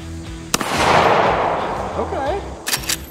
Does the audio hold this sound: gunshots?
yes